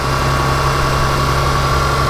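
A salvage-auction car engine idles in a steady, loud, low rumble with an even hum, close by and uninterrupted by voices.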